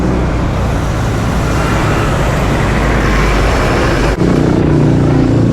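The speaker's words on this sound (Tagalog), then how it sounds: "Sobrang traffic na." Dense, steady road traffic roars continuously on a congested street near Quiapo, Manila, with car and bus engines rumbling close by; a louder lower engine surge joins near the end.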